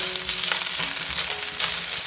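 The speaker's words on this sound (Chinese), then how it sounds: "然后加入香菇，继续翻炒" Shiitake mushrooms and Chinese sausage sizzle steadily in hot oil while being stir-fried, a loud continuous crackle with faint stirring scrapes and no voices.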